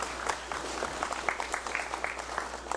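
A congressional chamber audience applauds for President David W. Panuelo at a special session, a moderate, even spread of many hands clapping steadily throughout, with no talking heard over it.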